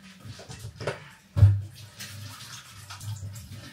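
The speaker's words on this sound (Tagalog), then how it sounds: "Hugas na ako ng kamay." Tap water runs in splashing bursts while hands are washed under it, with one louder splash and uneven gurgling flow.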